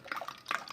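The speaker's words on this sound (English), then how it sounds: "Give that a little stir. It's a nice noise, isn't it? My wooden spoon, and stir it around" A wooden spoon stirs sugar into tea in a jug, giving a few light clinks and wet swishing sloshes in quick, uneven bursts, close and fairly quiet.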